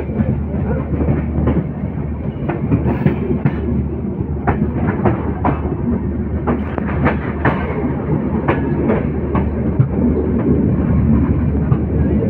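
Panchagarh Express passenger train running on tracks, a steady loud rumble from on board with repeated clicking wheel-on-rail clacks throughout as the train slows.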